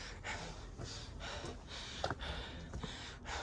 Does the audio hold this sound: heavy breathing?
yes